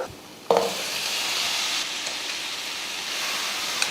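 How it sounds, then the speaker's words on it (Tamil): Pre-cooked mutton is added to ginger garlic paste in a hot pan and sautéed, bringing a sudden jump into a steady, loud sizzle that continues evenly, with faint stirring. "இஞ்சி பூண்டு பேஸ்ட்டோடு சேர்த்து நல்லா இதை வதக்கி விட்ருவோம்"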